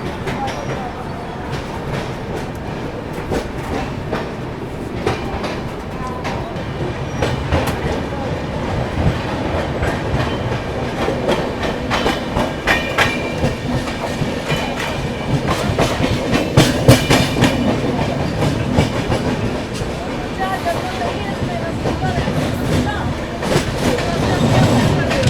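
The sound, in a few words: Gatiman Express train departing Gwalior Junction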